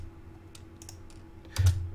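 A computer keyboard clicks with a few scattered, soft keystrokes over a steady low hum, ending in a slightly louder cluster of taps; no talking.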